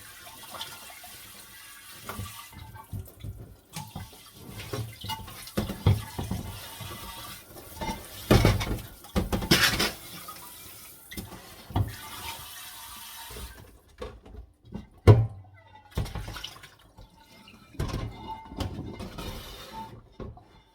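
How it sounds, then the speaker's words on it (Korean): Water runs and splashes while a large earthenware jar is scrubbed with a sponge, with irregular sloshing and scraping bursts at close range and no talking. "큰 항아리 바깥은 거친 걸로 씻으면 되고 안쪽은 요 스폰지 요 부분으로 씻어주는 거예요"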